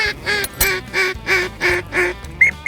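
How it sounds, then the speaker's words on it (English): Teal ducks quack repeatedly in a steady run of about six loud, nasal calls, close by on open water between frozen patches in Texas, with no talk. "you can tell these ducks want to be in there"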